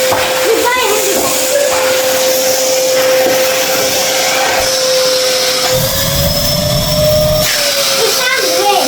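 A Hetty hoover vacuum cleaner runs continuously and loudly with a steady whine, its pitch shifting slightly as it sucks up building dust, with a voice talking over it.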